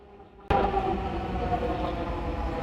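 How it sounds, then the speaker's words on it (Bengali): A Dhaka metro train rumbles abruptly into Agargaon station and keeps up a steady, broad roar with a faint whine, close by, pulling into the platform. "মেট্রো রেলটি উত্তরা দিয়াবাড়ির উদ্দেশ্যে আগারগা স্টেশনে এসে থামল"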